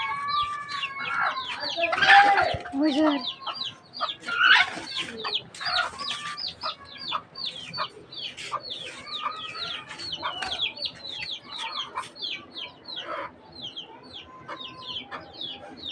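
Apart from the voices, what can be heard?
hen and chicks clucking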